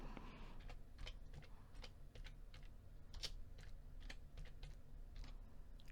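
Rapid, uneven keystrokes on a computer keyboard while entering accounting data, close and fairly quiet, steady clicking throughout with no talking.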